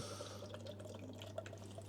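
Brewdog Pinball, a double dry hopped DIPA, poured into a glass, heard as a faint, steady liquid trickle with small drips over a low background hum.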